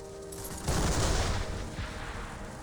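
A cannon fires in the Warhammer: Mark of Chaos battle, a loud heavy boom hitting after a brief lull and rolling into a sustained rumble over busy battlefield noise.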